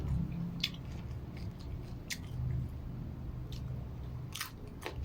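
Crispy fried fish is crunched and chewed close to the mouth, with a run of sharp, brittle crunches spread out irregularly over soft, steady chewing sounds, and no talking.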